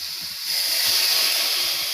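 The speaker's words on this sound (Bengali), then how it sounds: "অল্প একটু জল দেবো।" A splash of water hitting hot spices of turmeric, chili, coriander and cumin in a pan for a chital fish kalia, a loud steady steamy hiss and sizzle close by.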